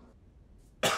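A single sharp cough bursts out loud and close near the end, after a stretch of near silence.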